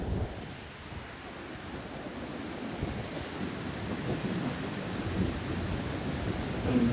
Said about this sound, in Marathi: पाण्याचा फोर्स बघा यार.